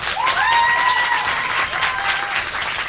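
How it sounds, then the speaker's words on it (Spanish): Studio audience applause for Leo Mattioli on a Uruguayan show, a loud, sustained burst of clapping with a rising, whistle-like shout riding over it near the start. "¡Y fuerte el aplauso"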